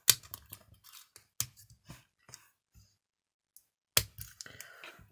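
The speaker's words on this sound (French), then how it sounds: "on va prendre à nouveau une capsule aplatie qu'on va couper en deux" Scissors snip through a flattened Nespresso coffee capsule to cut it in half, a series of sharp close clicks and crunches in uneven bursts with a pause before a final cluster.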